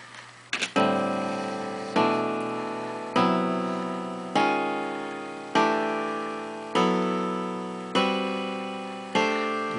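Quartal chords in A Dorian, played one after another at an even pace, each struck cleanly and left to ring and fade before the next, about seven chords, close and clear with no talking.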